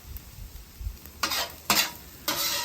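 Rice with cilantro and green onion tops being stirred on a griddle: three short scraping, sizzling strokes of a spatula rise over a faint background hiss, close and fairly loud.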